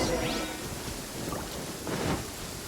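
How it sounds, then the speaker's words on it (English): Thunderstorm with rain in the video game Genshin Impact: dense rain hiss with low rumbling thunder swells rising and fading, loud and close, no speech. "Uh-oh! Lightning storm!"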